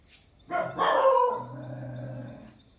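A street dog outside gives a single drawn-out howling bark, fairly close, trailing into a steady tone, then quiet.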